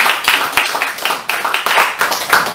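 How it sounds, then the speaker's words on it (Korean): An audience at a lecture on Korean defense and history claps together in a dense, fairly loud burst of hand claps, with a rough rhythmic pulse running throughout. "이때 이러면 박수 한번 치셔야 됩니다"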